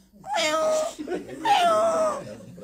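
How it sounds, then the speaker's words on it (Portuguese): A cat gives two drawn-out meows close by, each a wavering cry with a falling tail, separated by a brief pause and heard alone without talk. "Quando ele via, tava o gato miando."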